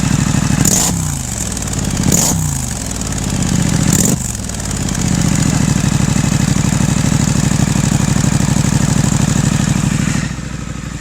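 A motorcycle engine with a decat exhaust pipe idles loudly up close with a raspy, uneven exhaust burble, a few sharp revs blipping early on before it settles into a steady rumble.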